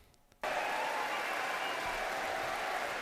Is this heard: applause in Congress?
yes